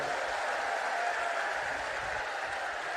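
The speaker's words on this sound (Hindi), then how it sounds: "जरा जोर से ताली बजाओ।" Crowd applause at a political rally in Ranaghat, West Bengal, a dense, continuous wash of clapping from a large outdoor audience, steady and fairly loud throughout.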